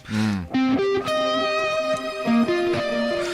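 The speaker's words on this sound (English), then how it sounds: "I have a lot of gain, but it's still dynamic." Heavily distorted electric guitar plays a short melodic phrase of sustained, buzzy notes with thick overdriven harmonics, played alone.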